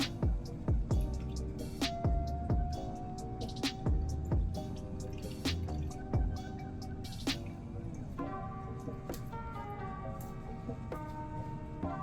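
Liquid drains and drips through a strainer while homemade cheese is being made, with irregular trickling, splashing drips and soft clinks, close and fairly quiet.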